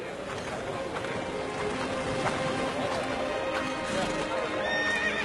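Horses gallop in a dramatized battle charge, with rapid clip-clop hoofbeats and repeated neighs and whinnies under loud shouting voices, forming a dense, continuous din.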